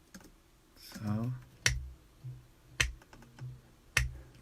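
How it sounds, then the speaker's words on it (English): Finger snaps made one at a time by a man during a casual live stream, four sharp dry clicks spaced about a second apart, close and fairly faint, with a brief vocal sound before the first. "those are my finger snaps."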